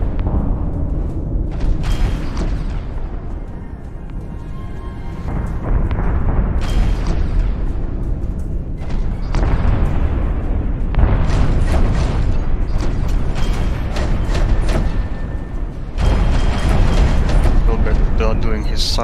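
Ship cannons in the space combat game Infinity: Battlescape fire automatically in a string of booming bursts, with loud blasts recurring every few seconds over a rumbling background.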